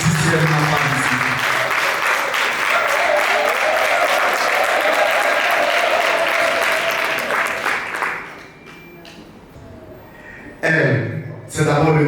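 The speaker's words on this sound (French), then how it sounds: "nous allons donc également acclamer dans cette salle" An audience applauds in a conference hall at a book signing event in Yaoundé, a steady, loud wash of clapping that fades after several seconds, followed by a brief burst of sound near the end.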